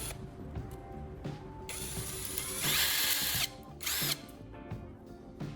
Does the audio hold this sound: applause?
no